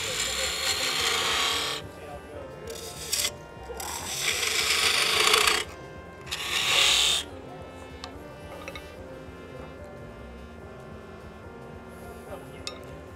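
A 3/8 inch spindle gouge hollows end grain wood on a lathe while turning a lidded box, giving loud scraping bursts between pauses over the lathe's steady hum.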